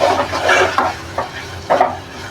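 Green peas are stirred and sautéed in a pan with masala in bursts of scraping and light sizzling, each stir sweep close and fairly loud.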